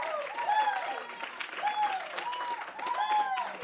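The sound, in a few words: audience applauding and cheering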